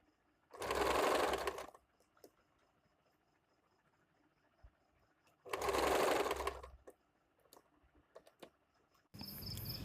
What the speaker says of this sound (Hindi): अभी यहाँ से फिर दोबारा इस तरह से घुमा के और एक सिलाई लगा लूँगी